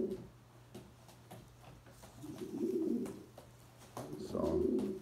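Racing pigeons in a loft coo nearby in two low, throaty bursts over a faint steady hum, with soft shuffling and scattered clicks in between.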